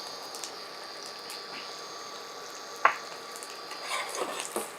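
A few peeled garlic cloves fry in a pan with a faint, steady sizzle, one sharp utensil knock partway through and light scraping stirs toward the end.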